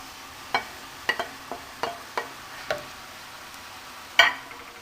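Shrimp frying with onion in a pan, a quiet steady sizzle broken by about eight sharp pops and crackles, one louder burst near the end.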